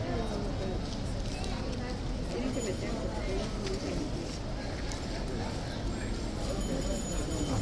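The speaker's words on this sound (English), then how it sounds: "Horse is back out at the front again, folks." Horse hooves clop outside at the front, a soft, steady plodding under ongoing background talk.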